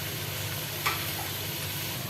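Meat goes into hot, fried spice masala for Lucknowi-style urad gosht and sizzles steadily, with one brief sharper hiss as it hits the pan, heard alone without talk.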